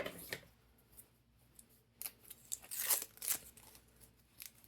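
Protective backing is peeled off both sides of adhesive LED lens diffusers for a prop control panel, giving quiet crackly tearing and crinkling bursts with short pauses between them.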